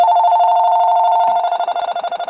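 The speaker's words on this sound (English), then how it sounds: "I got an incoming call. Maybe that's him calling back." A telephone trills with an incoming call, a steady electronic warbling tone that holds for over a second and then breaks into rapid pulsing bursts, loud and close with no talk.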